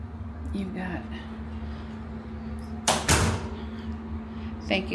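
A hotel villa room door at a Disney resort swings and latches with a short, loud burst of noise amid steady room hum and a person talking nearby.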